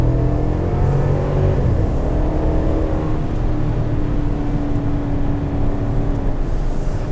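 A 2021 Chevrolet Tahoe High Country with the 6.2 V8 in two-wheel drive accelerating hard while the rear wheels spin, giving a loud, continuous engine roar that climbs in pitch from the cabin.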